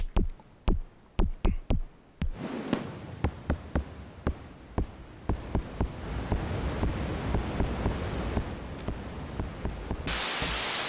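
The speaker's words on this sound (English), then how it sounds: "Snare sound, lots of noise." A noisy synthesized snare from an SSF Entity percussion synthesizer hits repeatedly in quick rhythmic patterns, sharp crisp attacks with hissy noise tails that grow denser and longer until a sustained wash of noise at the end.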